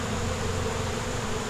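Dense, steady buzzing of many honeybees close around a backyard hive, a continuous loud drone with no pauses and no voices.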